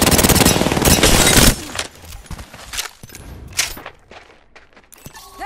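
Automatic weapon fire from a first-person shooter match in Apex Legends, a dense loud burst for about a second and a half, then scattered single shots and footsteps-like thuds fading lower in level.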